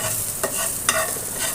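Garlic frying in a pan with a constant close sizzle, punctuated by two quick scraping stirs of a spoon.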